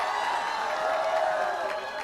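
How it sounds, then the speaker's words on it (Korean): A rally crowd applauds to welcome a lawmaker, a dense, continuous wash of clapping and cheering that sounds fairly distant and fills the whole moment. "여러분 큰 박수로 환영해 주십시오"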